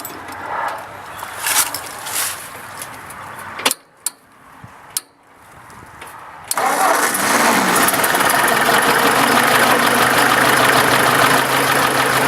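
A 1954 Ford Jubilee NAA tractor engine starts cold: a few short cranking bursts and pauses come first, then the engine catches and settles into a loud, steady, close idle.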